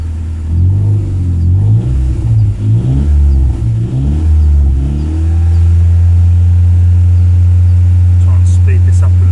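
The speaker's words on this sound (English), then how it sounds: "I can open the door and get a rev so you can hear it" A car engine with a faulty idle control valve revs in several quick bursts, then settles into a steady loud low idle heard up close; brief talking appears near the end.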